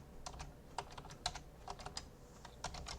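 Typing on a computer keyboard, a quiet, close run of irregular key clicks in short bursts, with no talking.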